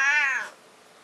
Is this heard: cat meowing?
yes